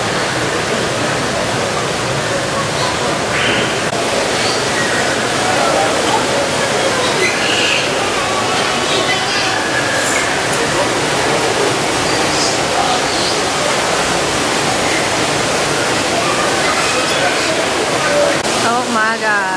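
Indoor waterfall at the Dallas World Aquarium, a loud continuous rushing roar of falling water filling the space evenly, with visitors' voices faintly mixed in.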